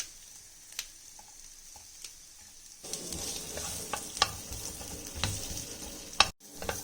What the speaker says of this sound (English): I'm putting the onions which are roughly chopped for a frying